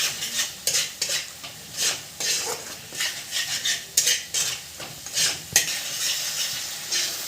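Spice paste with Kashmiri chili fried and stirred in oil in a pan for an egg curry with papaya and potato, a close, steady sizzle under repeated scraping strokes of a spoon against the pan.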